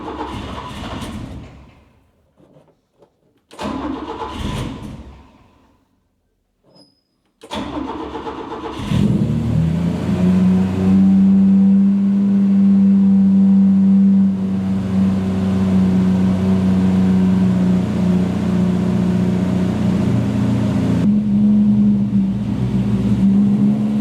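A 1960s Volvo 164 engine cranks in short bursts, catches and starts, then settles into a loud steady idle with a slight drop in pitch near the end.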